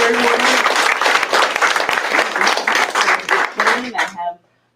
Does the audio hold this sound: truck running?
no